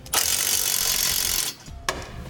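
A ratchet with a 9/16 socket tightens U-bolt nuts on a truck frame bracket, giving a rapid buzzing ratchet clicking for over a second and then a short second burst.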